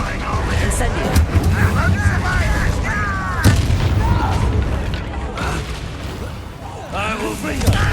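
Incendio, a fire spell, cast in the Hogwarts Legacy video game, heard as a dense roaring burst with booming crackles and whooshing flares over a busy combat soundscape, with game dialogue mixed in.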